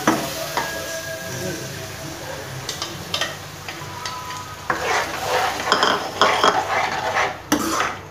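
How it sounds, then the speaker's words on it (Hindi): Yogurt goes into a pan of fried masala for spiced okra and is stirred in with a spoon, giving a soft sizzle under repeated scraping and clinks of metal against the pan, close by. "अब मैं इस वक्त डालूंगी दही।"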